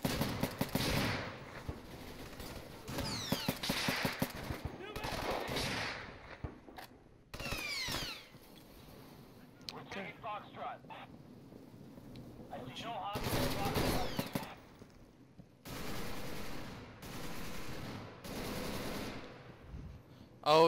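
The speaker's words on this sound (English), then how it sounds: "Stop shooting so I can see you." Bursts of automatic gunfire and single shots from the Insurgency video game in Checkpoint mode, arriving in loud clusters with gaps between them and voices talking over parts of the action.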